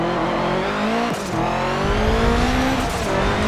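A race car in the video game Forza 7 drones with a steady high engine note, drops off sharply as it brakes, then climbs again with rising revs while accelerating out of the turn, loud and continuous with no talking.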